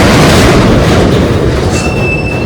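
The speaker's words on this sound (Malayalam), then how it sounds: "നമ്മുടെ train number 122-49 Ernakulam Pune superfast express." The Ernakulam–Pune Superfast Express rolls into a platform, a loud close rumble of wheels on rails with a thin squeal rising near the end.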